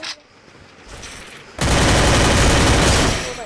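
Gunfire in a shooter video game, a quiet lead-in followed by a sudden loud, dense burst of rapid automatic shots lasting over a second and a half, close and continuous.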